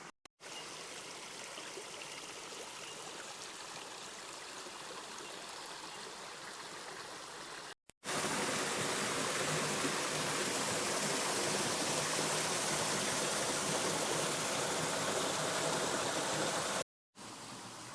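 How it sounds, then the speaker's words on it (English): Steady rushing of a flowing stream, continuous and fairly close, growing noticeably louder partway through with a few brief dropouts. "You can hear running water."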